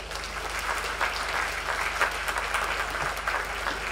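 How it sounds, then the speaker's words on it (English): An audience at a dressage riding master class applauds, with dense, steady clapping from many hands lasting throughout, heard from a moderate distance in a large indoor hall. "I think you can applaud this"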